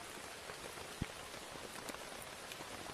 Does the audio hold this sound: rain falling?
yes